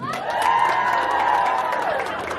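At a Samoan youth break-up party in Canberra, a crowd cheers for a best-dress contestant with steady, full-room shouting and some clapping, holding strong for about two seconds before easing off.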